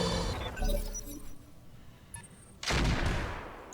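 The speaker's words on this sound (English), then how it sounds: "I think it might be machine guns" Machine guns fire in the mech video game RogueTech in two loud, crackling bursts, the first short and the second longer and harsher, with a quieter gap between them.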